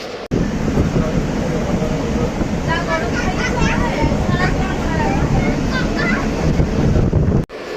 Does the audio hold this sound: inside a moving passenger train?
yes